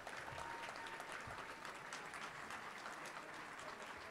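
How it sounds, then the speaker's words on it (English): Audience applause greets Kanan Sandy at a Little Rock Touchdown Club luncheon, a steady, dense wash of clapping held for the whole stretch at moderate distance, with no clear speech over it. "let's give him a round of applause"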